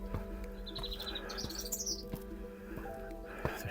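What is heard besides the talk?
bird chirping loudly on a hill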